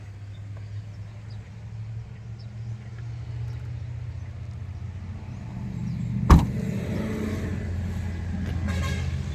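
Power window motor on a Mazda Hustler whirring steadily for several seconds, a close low mechanical hum that ends in a sharp thunk as the glass reaches its stop, with a faint rattle afterward.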